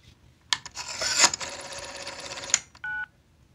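A small white Dialgizmo dialer box sounds telephone DTMF tones while a number is dialed from a rotary phone, with a long sustained beep burst followed after a short gap by a second brief tone, heard close and clear.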